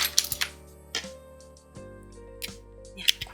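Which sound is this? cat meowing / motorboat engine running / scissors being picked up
scissors being picked up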